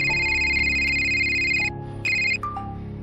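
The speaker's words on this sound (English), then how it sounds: "At that time his mobile phone starts ringing." A mobile phone rings with a bright electronic ringtone, repeated tonal bursts close and clear, cutting off after about two and a half seconds with no talk.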